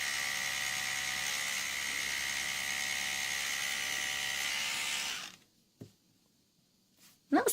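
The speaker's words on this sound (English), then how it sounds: "brushing your teeth with an electric toothbrush" An electric toothbrush buzzes in a steady high whine for about five seconds, then cuts off, leaving near silence broken by a couple of brief soft clicks.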